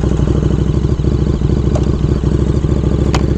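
A motorcycle engine runs loud and close with a steady, throbbing rumble, and faint clicks and clatter sit over it.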